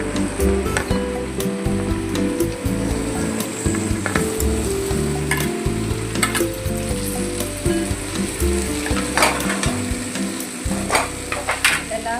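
Potatoes and okra fry in a pan with a loud, steady sizzle and crackle, broken by occasional spatula knocks and stirring scrapes.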